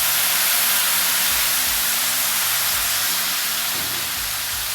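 A hot Pit Boss Ultimate Griddle being deglazed gives off a loud, steady hiss of steam and sizzle that runs unbroken throughout, with faint low knocks underneath.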